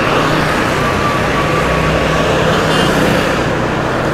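Aprilia SR 160 Race BS6 scooter riding along, its engine droning steadily and loudly with wind and road rush throughout, no voices.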